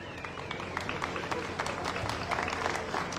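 A crowd applauds to welcome the municipal president at a Santa Cecilia festival for local musicians, steady clapping at moderate distance with voices murmuring underneath.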